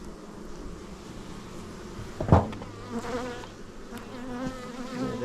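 A steady, dense buzzing of many honeybees fills the air close by, with a brief louder thump partway through and no voices.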